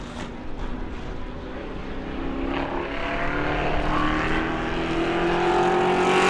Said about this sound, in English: Next out to qualify this beautiful Camaro for Bruce Gayton.